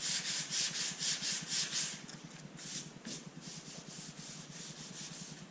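Body filler on a Ford Bronco gets sanded by hand in quick repeated strokes, a rhythmic close-up rasping scrape that is steady at first and then lighter and more uneven.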